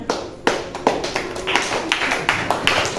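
A fifth-grade classroom gives a round of applause: a small group claps in a quick, fairly regular rhythm of sharp, close hand slaps lasting about three seconds, with no speech over it.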